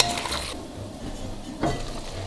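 Ground coriander and whole black pepper stirred into lamb and rice plov frying in a pot for Uzbek pilaf, a steady sizzle with two scraping stirs of a utensil, close and alone.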